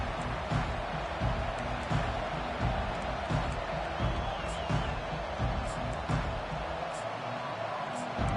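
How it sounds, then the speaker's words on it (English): A football stadium crowd roars steadily for the whole stretch, a dense, loud wash of cheering and noise with occasional sharper shouts rising out of it. "This crowd bringing the energy and noise early"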